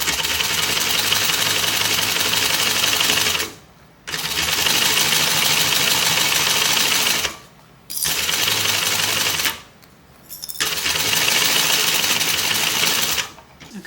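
Loud, close sewing machine running in long continuous bursts of stitching, stopping briefly three times between runs, with no one talking over it.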